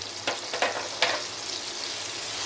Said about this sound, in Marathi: टमॅटो परतून घेते छान असा फोडणीमध्ये